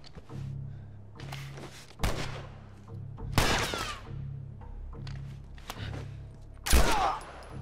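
A gunshot landing a headshot in The Last of Us, sharp loud shots at intervals among duller thuds and impacts, close and fairly distinct over a low background hum.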